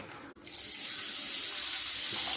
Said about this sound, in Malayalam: ഇനി നമുക്ക് ഇതിനകത്തേക്ക് വിനീഗർ ഒഴിച്ചു കൊടുക്കാം